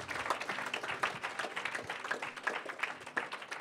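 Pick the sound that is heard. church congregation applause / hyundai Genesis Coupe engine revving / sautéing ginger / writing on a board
church congregation applause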